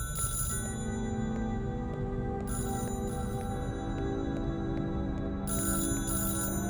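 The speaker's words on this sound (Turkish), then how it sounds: "Telefon çalmaya başladı." A telephone rings in the indie horror game The New Flesh, sounding in three short bursts spaced a few seconds apart over a steady, humming musical drone.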